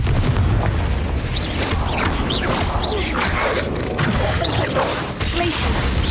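The Confringo fire spell goes off in Hogwarts Legacy gameplay in a mine, with loud repeated booms and crashes over a dense, rumbling game soundtrack and effects.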